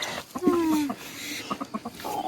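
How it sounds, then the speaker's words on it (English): Chickens near a creek clucking up close, with one drawn-out squawking call followed by a quick series of short, rhythmic clucks. "Chickens are coming. They're gonna eat your worms."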